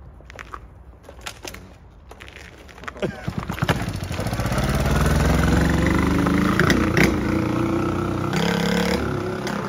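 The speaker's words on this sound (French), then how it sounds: "Tu veux qu'on essaie de la démarrer celle-là? Il démarre le kart ou quoi?" A go-kart engine is cranked a few times and then catches at about three seconds, settling into a loud, steady running drone with harmonic bands. Voices talk over it.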